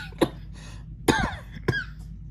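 Three separate coughs with pauses between them, close and fairly loud, with no talking.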